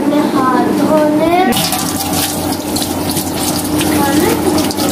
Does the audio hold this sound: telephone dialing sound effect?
no